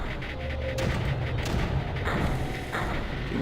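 Mortars firing in the strategy game Creeper World, a steady stream of dull booming shots under a dense, continuous rumble of game noise, with no voices.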